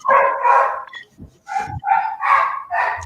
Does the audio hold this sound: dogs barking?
yes